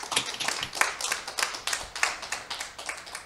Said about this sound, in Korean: 여러분 큰 박수로 모셔주시면 되겠습니다.